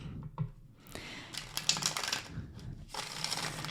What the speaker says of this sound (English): I love a deck that's fun to shuffle.